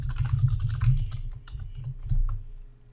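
Quick tapping on a computer keyboard while entering a scenario name in Excel, a short close run of light key clicks over about three seconds, uneven in rhythm with a brief pause midway.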